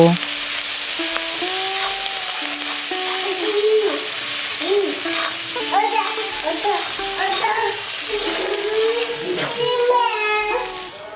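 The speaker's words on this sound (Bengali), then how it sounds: "বন্ধুরা গ্যাসের ফ্লেমটাকে মিডিয়ামে রেখে আমি আড়াই মিনিট মশলাগুলোকে কষিয়ে নিয়েছি" Ground spices including chilli powder, salt and turmeric sauté in a pan over a medium gas flame for a vegetable paneer dish, a continuous steady sizzle with occasional stirring, under background talk and tonal voices.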